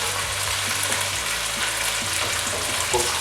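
Capsicum and onion cubes fry steadily in a pan for chicken jalfrezi, a continuous close hiss with a few soft clinks of stirring, no voices.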